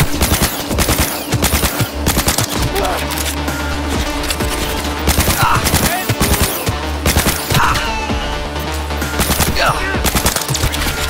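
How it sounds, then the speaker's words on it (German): Rapid, loud pistol shots from Cyberpunk 2077 gameplay on PS5, a sustained run of sharp cracks close up with hardly a pause, and a voice faintly underneath. "Fühlt sich zwar komisch an beim Schießen, aber eine gute Pistole."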